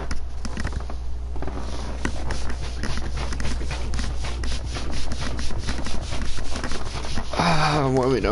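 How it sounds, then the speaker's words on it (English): Hands rub briskly together to warm up, a continuous close dry rasping swish that runs steadily throughout, with a brief voice near the end. "I'm warming up my hands."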